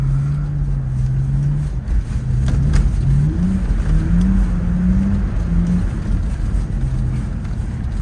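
A BMW Z4 E85 with an N52B30 engine drones loudly and steadily while drifting on a winter road, its pitch rising and falling as the throttle is eased on and off, with no talking.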